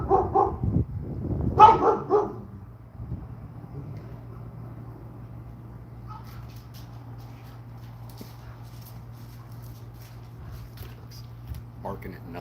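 A dog barks several times in a quick burst at the start, close and loud, then falls quiet over a low steady background hum for the rest of the stretch.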